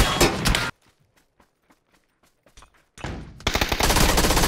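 Automatic gunfire from a PUBG match, dense loud bursts at the start, a quiet stretch of faint scattered clicks and steps, then a heavy sustained volley returning at the end.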